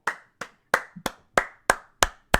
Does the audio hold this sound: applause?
yes